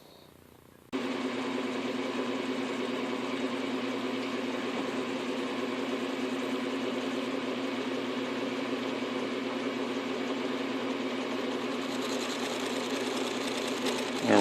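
A South Bend 9 x 24 workshop lathe runs steadily while turning a pulley, giving a continuous close mechanical whir and hum with fine rhythmic clatter that starts abruptly after a quiet moment and holds without a break.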